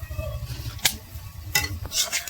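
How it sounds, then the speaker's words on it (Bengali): Carrots and melting sugar being stirred in a pan for carrot halwa, giving a soft continuous sizzle with a few sharp scraping strokes of the spoon. "ভালো করে এখন নাড়িয়ে ছেড়ে নিতে হবে যাতে উপরে চিনিগুলো নিচে চলে যায়"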